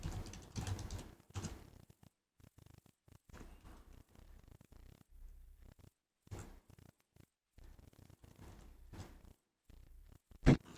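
Soft, irregular computer keyboard tapping in short clusters with quiet gaps between them, close and faint, ending with one sharper click.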